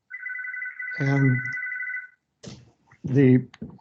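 A phone rings with a steady electronic trill for about two seconds, overlapped by someone speaking, who continues talking after it stops.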